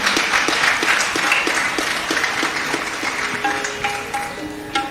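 Steady applause from a Diwali morning concert audience, dense and sustained for the whole stretch, with a faint melodic tone or instrument note toward the end and no talk over it.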